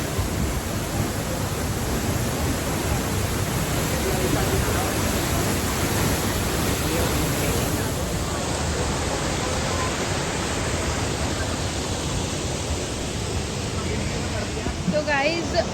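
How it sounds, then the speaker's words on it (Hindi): Tiger Falls at Chakrata in monsoon roars as a constant, loud, broadband rush of falling water heard close by, with people talking faintly over it. "हम वाटरफॉल के नीचे बिल्कुल भी नहीं गए हैं, उसके छींटे हमारे पास आए हैं"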